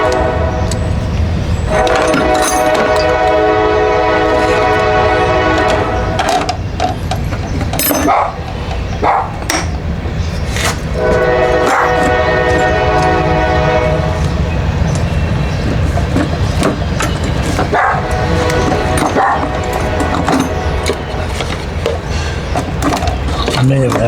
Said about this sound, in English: There's our daily train.